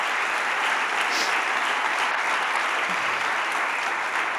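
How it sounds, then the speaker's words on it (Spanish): A church congregation claps together during a sermon, steady and even applause from many hands that continues unbroken across the whole moment. "Denle un aplauso al Señor por su palabra."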